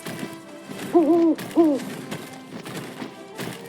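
An owl hoots twice in the video game Final Fantasy VII Rebirth, with two distinct close calls over soft ambient game noise and faint thumps, and no talking.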